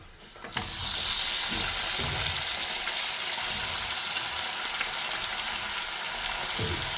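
Mutton fries with garlic and ginger in a pan, a dense continuous hiss that starts abruptly and holds loud and close, with occasional scraping stirs underneath.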